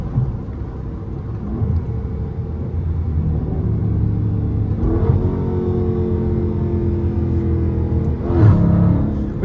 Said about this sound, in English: Yeah, downshift